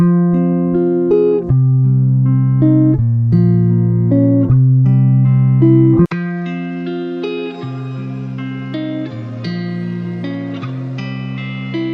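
A clean, dry electric guitar plays a sequence of sustained chords and notes, loud and close with no added effects.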